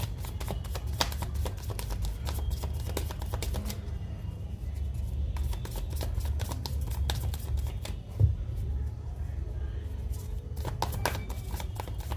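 Tarot cards being shuffled by hand, a close run of quick flicking riffles and soft slaps over a low steady background hum, with no talking.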